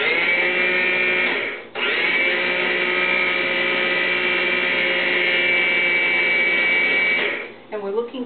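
A food processor pulses potatoes toward a creamy chop, running as a loud, steady whir for several seconds, briefly cut off near the start, then stopping near the end.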